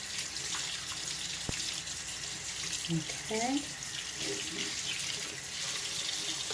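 Tap water runs steadily into a sink while makeup brushes are rinsed under it, a continuous close hiss with a few brief splashes, and a voice speaks once.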